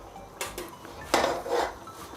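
A spoon scrapes leftover colored batter from a bowl while cooking biryani, giving a few quick, close clinks and scrapes against the bowl with short pauses between them.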